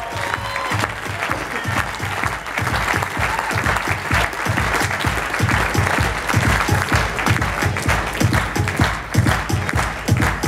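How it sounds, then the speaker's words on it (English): An audience at a ViSalus training session claps loudly and steadily, with a strong, even beat of many hands that builds into rhythmic, unison clapping and carries on without talk. "The rest of you guys give a big round of applause,"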